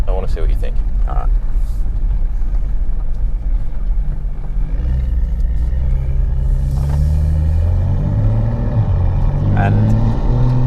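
BMW M2 with an N55 engine, Stage 2 tune on full E85 with upgraded high-pressure fuel pump, accelerating hard: a loud, steady engine rumble that deepens and surges as revs build, with people talking inside the cabin over it.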